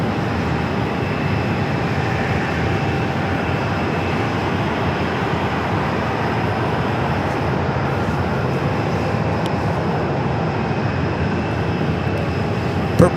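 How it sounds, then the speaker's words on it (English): A JetBlue Airbus A220-300 jet at Phoenix Sky Harbor airport, a loud, steady broadband engine roar that holds evenly throughout without letting up. "And JetBlue A220-300 in the newer livery."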